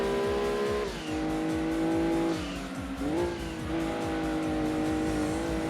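Race cars braking and downshifting in the video game Gran Turismo 2: loud, continuous engine whine with falling pitch steps and squealing tires, several cars close together, no talk.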